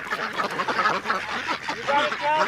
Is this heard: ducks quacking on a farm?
yes